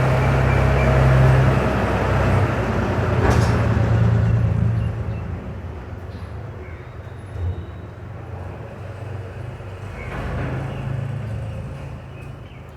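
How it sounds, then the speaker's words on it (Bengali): Traffic passing by during an outdoor poetry reading, a loud low rumble of a vehicle that fades after a few seconds into a softer road hum with another faint pass near the end, no voices. "গাড়ির শব্দে ব্যাঘাত করল"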